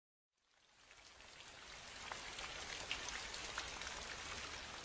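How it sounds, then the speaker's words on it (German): Rain falling steadily, a soft hiss that fades in from silence and builds into a dense, even patter, distant and faint. "Regen und andere Niederschläge."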